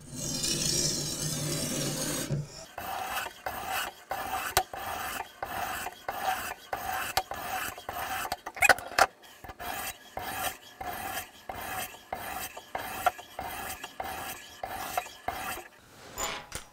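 A knife is drawn across a 1500 grit whetstone in a Ruixin Pro RX-008 sharpener, giving about twenty steady, evenly spaced rasping strokes, close and clear.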